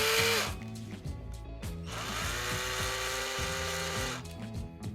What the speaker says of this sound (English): Loosely tighten down the security bolt.